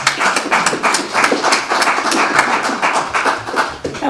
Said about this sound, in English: I too want to give her a round of applause